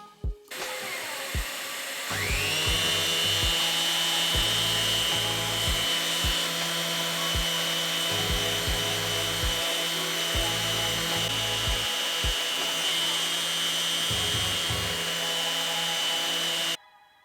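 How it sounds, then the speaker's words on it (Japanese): A power tool sands parts of a carved wooden Gundam figure, giving a steady high whine for about fifteen seconds with intermittent lower grinding bursts as the tool bites. There is no talk. "とりあえず今まで作ったパーツを全部やすりがけしていきます。"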